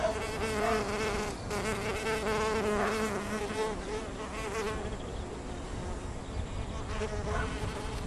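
Mason bees swarm around nesting tubes, males crowding an exit, producing a dense, continuous buzz of many overlapping wings up close, swelling and dipping without pause and with no talking.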